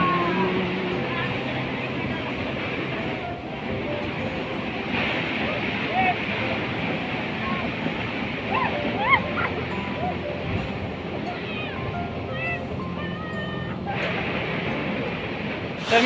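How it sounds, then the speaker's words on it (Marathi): Ghonsari village waterfall pours in a continuous rushing roar, broad and steady throughout, with some wind buffeting and people talking faintly in the background. "बघू शकता तुम्ही धबधबो."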